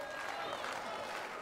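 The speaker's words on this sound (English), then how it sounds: "The crowd is starting to swell." Crowd at an AML Wrestling NWA Junior Heavyweight title match cheering and clapping, a dense, steady roar of an indoor arena audience over a brief stretch, with a commentator's voice mixed in.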